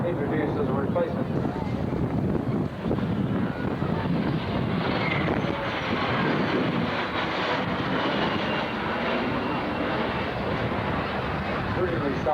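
A jet aircraft flies a tight display at the Shoreham airshow in 1996, its engine roar steady and loud throughout, mixed with wind buffeting and a commentator talking over it.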